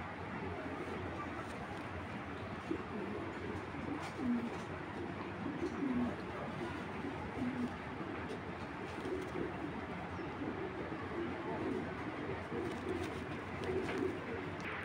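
A big, strong black chequer racing pigeon cock in full breeding condition coos softly and repeatedly, low and close, over a steady background hum.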